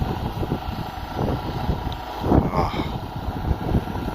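Extreme desert wind in a fruit-tree food forest, a steady rough roar buffeting the microphone with gusty swells and low rumbles throughout.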